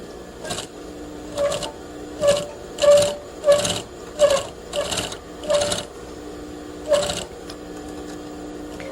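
A sewing machine top stitches a pocket in a burst-and-pause rhythm, with about nine short mechanical whirring runs close by and no speech.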